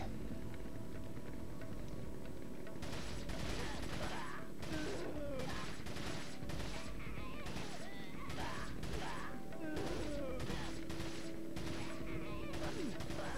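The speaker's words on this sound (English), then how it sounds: "I'm not a big fan of the TMP as a machine gun." Bursts of submachine-gun fire from the TMP in Resident Evil 4's Separate Ways, rapid repeated cracks in short volleys over a steady game background, with some game voices mixed in.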